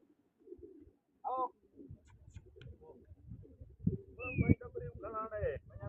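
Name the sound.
pigeons cooing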